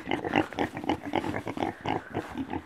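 Black pigs with a trace of Tamworth breeding on a permaculture farm grunt and oink in quick, close, repeated bursts, with no talk.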